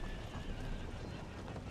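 Cavalry horses in the Empire: Total War battle game, a faint whinny over a dense, noisy battlefield din with hoofbeats, steady and continuous.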